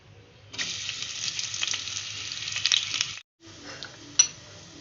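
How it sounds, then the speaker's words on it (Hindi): Sliced onions hit hot oil for chana pulao, bursting into a bright sizzle that holds for about three seconds, cuts out briefly, then resumes quieter with a sharp clink near the end; close, no voices. "अब इसमें हम प्याज डाल देंगे।"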